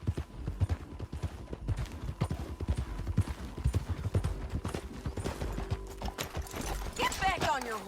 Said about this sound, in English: Get back on your horse, John.